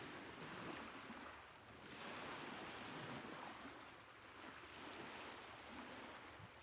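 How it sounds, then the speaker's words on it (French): Steady wash of ocean surf rolling in and out, a broad soft roar with gentle swells and no voices. "Observe le va-et-vient des vagues qui foulent doucement le rivage."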